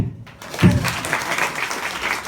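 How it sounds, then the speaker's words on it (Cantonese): Audience applause at a live music event swells after a brief near-silent gap into steady, dense clapping from a crowd that continues to the end. "一 dead air 冇嘢講嘅，就掌聲，再嚟！"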